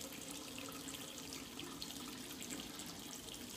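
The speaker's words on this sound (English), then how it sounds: "Wash my hands." Running tap water splashes steadily into a sink as hands are washed during a facial spot-care routine, a continuous close hiss with no talking.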